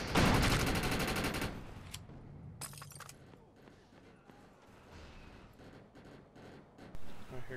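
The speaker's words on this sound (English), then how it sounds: "I hear gunfire." Video game gunfire: a loud rapid burst of shots with shattering crackle at the start, then a brief second volley and fainter scattered shots under quiet background.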